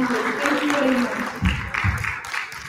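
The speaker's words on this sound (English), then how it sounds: "round of applause for the panelists" Audience applause for conference panelists in a hall, moderate clapping that fades, with someone speaking over it and some low rumbling thuds underneath.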